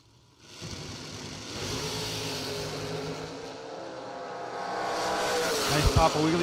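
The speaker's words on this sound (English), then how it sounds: "Nice Papa Wheelies by both drivers, but Triplett lights it up 7 red" Drag racing cars launch in a Jegs SFG 500K race, engines rising into a loud, sustained roar from a distance that builds and swells toward the end.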